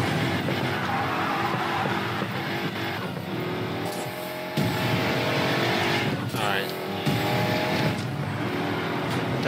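A '65 Ford Mustang drifting in the racing game Need for Speed Payback, with a loud engine roar and tire squeal running throughout, while people talk over it.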